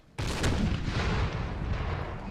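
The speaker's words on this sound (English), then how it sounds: "already blasting away and doing a lot of what they usually do as our cannon, which is not hit anything" Cannon artillery fire in the video game Empire: Total War, a sudden loud blast followed by a long rumbling, crackling roll of gunfire that stays heavy throughout, with no talking.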